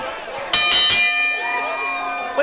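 Wrestling ring bell at a live match, several loud bright clangs struck in quick succession with a long metallic ringing decay, over crowd noise and announcer talk.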